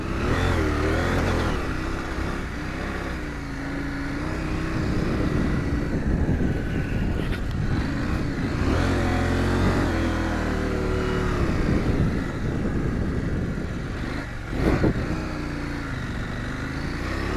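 A KTM 790 Adventure R motorcycle is ridden through big sand dunes in Morocco with traction control off, its engine revving up and down in repeated surges, loud and close, with no one talking.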